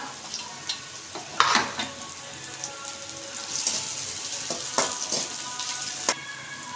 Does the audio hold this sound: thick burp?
no